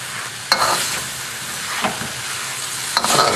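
Onion wedges and eel tossed in a hot wok, a loud continuous sizzle and frying hiss with occasional clanks of stirring, close up and with no talking.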